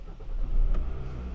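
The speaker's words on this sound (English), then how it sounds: "So now I'm going to start the car." A car engine cranks and catches after a push-button start, a brief rising rumble close by with no talking.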